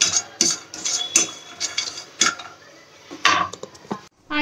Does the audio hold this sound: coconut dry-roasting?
yes